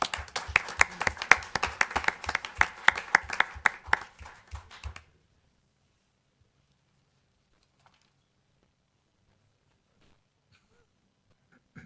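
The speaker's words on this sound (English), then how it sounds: "let's give them a round of applause" A city council meeting audience gives a brief round of applause, scattered close hand claps for about five seconds before falling silent.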